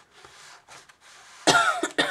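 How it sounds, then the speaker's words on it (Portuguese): Two harsh coughs burst out loudly near the end, following a stretch of quieter rustling and faint breathy noise. "Oh, que tosse horrível."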